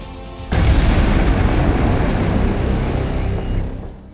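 An explosion in Rohini, Delhi, erupts as a sudden heavy boom in news footage, followed by a sustained loud roar and rumble that slowly fades over several seconds.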